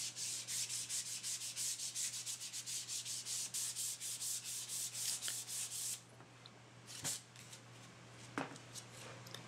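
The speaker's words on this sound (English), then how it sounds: "320 grit, I'm softening the edges from the router, kind of smoothing those out a little bit." Hand sanding a wooden cutting board's routed edges with 320 grit paper, rapid rhythmic rasping strokes close by for about six seconds, then quieter with a few scattered knocks.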